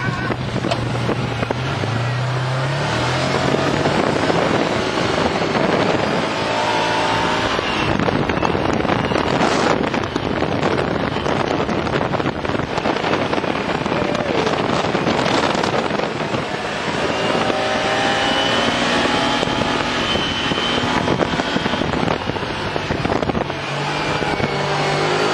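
A Mercedes G-Class Commander drives over sand dunes, its engine a steady loud rumble under heavy wind buffeting on the microphone throughout.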